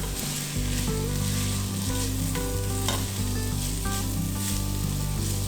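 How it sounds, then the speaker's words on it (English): Medium-chopped onions fry in a pan with a dense, constant sizzle and low stirring rumble, close and fairly loud throughout with no voices. "I like to let my onions cook for just a moment"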